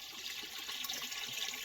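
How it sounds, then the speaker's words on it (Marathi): Water runs from a hose attached to a tap as a container fills, giving a steady, soft, hissing splash that stays faint and continuous with no voices. "आजी आजी पाणी बिनी भरतीये."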